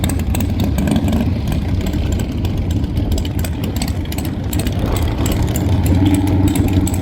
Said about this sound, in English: Okay, here comes a big tire bike out here in the right lane.